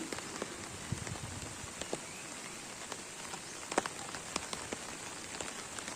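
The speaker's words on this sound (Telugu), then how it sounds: "అంతలా వర్షాలు పడుతుంది" Heavy rain falls steadily in a hill village, a dense, even hiss with scattered louder drops striking nearby surfaces and no voices.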